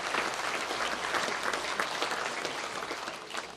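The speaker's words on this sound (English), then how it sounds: "Give Brandon a round of applause." Dense, sustained applause from an audience at a Hall of Fame event, steady and fairly loud throughout, with no voices rising above the clapping.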